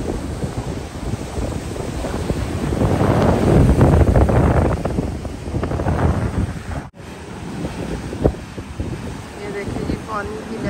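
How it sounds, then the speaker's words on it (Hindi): Strong wind-driven water waves rolling in, heavy rushing surf with loud wind buffeting the microphone, swelling to a peak midway and easing off, with a brief dropout near the end. "ये देखिए जी पानी की लहरें, चेक करें पानी, no warning no senses, no warning, ऐसे आ रहा है पानी।"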